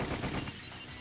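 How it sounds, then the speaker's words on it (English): Rapid gunfire in a hallway scene from the Sweet Fuse video game, a dense burst of loud overlapping shots that fades slightly after half a second, with no talk over it. "the hallway was filled with the sound of gunfire"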